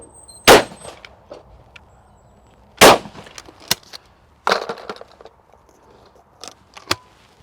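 A shotgun fires cartridges at clay targets outdoors, four or five sharp loud reports spaced a second or two apart, each with a short ringing tail, with fainter clicks and handling noise between them.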